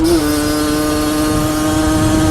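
A vehicle engine revved in neutral holds a loud, steady buzzing drone with a brief pitch bump at the start, close by and alone.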